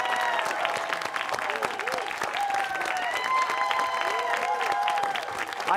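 An audience at a St. Joseph Academy school game claps steadily in a dense, sustained patter, with scattered cheering voices mixed through the crowd noise.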